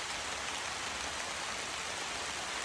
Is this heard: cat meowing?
no